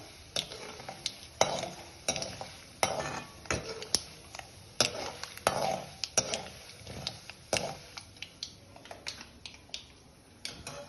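Avarekai (lilva bean) upma ingredients browning in a pan, stirred with a spoon that scrapes and clinks against the metal in frequent irregular strokes, close and fairly clear with no talking.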